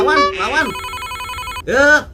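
A telephone rings in loud, close electronic trills, two bursts separated by a steady tone, with a voice mixed in during the rings.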